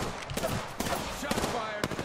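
Rapid gunfire in the PC video game Apex Legends: a dense run of sharp shots over about two seconds, mixed with game sounds, with voices speaking underneath.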